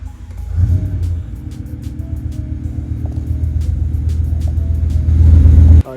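A BMW E60 M5 engine cranks and catches, then settles into a deep, steady idle rumble close by, swelling louder just before it cuts off.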